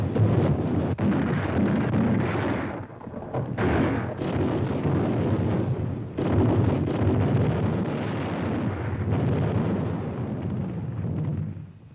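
Heavy naval gunfire in a 1944 wartime film about the Battle of China: a continuous, loud, rumbling roar of explosions with a few sharper blasts, on a muffled, band-limited old soundtrack.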